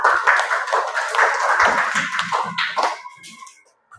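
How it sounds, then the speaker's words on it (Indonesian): Classroom clapping from a group of students after an answer about paying with rice, dates and sago, a short burst of hand claps mixed with murmuring voices that fades out near the end. "Tepuk tangan."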